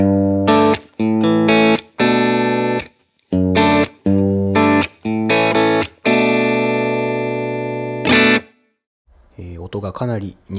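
Fender Stratocaster on its rear pickup, played through an Axe-Fx II amp simulator with a cabinet model chosen to resemble a DC30: a sequence of loud, distorted, chord-like stabs and held notes, followed by a brief burst of rapid picking at the end.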